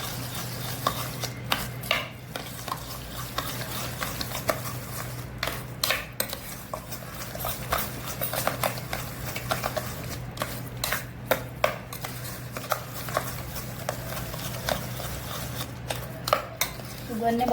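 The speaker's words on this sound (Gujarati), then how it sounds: "પછી અંદર સુગર એડ કરીશું. જે રીતે ગળાશ હોય એ રીતે એડ કરવાની. પછી બધું મિક્સ કરી દઈશું." Jamun fruit pulp stirred with sugar in a bowl for homemade candy: a spoon scrapes and clinks against the dish in irregular strokes for a long stretch, over a faint steady background hum.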